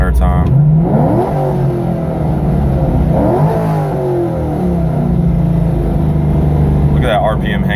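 A 2001 Corvette Z06 V8 with a big cam and upgraded heads and intake revs repeatedly, the RPM climbing and hanging before dropping back to a lumpy idle, loud and close.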